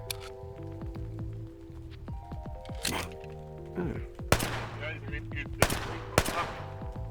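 Gunfire in the Metaverse RP video game, each shot with a randomized sound: several sharp cracks at irregular intervals, a few loud and close, over a steady musical backdrop.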